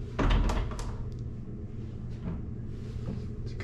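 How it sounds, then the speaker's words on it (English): A hotel room door in a Las Vegas hotel sticks as someone tries to open it, giving a dull thunk and rattle near the start, followed by faint handling noises over a steady room hum. "but how to open this door?"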